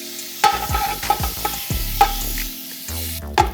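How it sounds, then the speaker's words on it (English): Bacon cooking in a pan to render its fat, a steady close sizzle broken by several sharp scraping stirs and clinks of a utensil, with no talking. "Now we just trying to cook the fat off the bacon"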